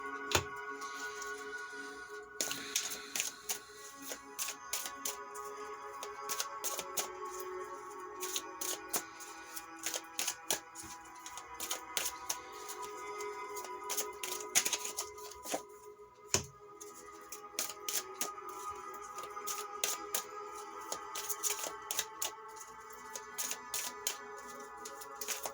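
Tarot cards are shuffled by hand for a reading, with repeated soft riffling and tapping bursts, close up, over faint background music.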